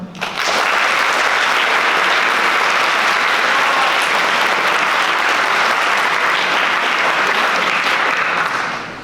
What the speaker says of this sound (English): Please give an applause for the delegate of Malaysia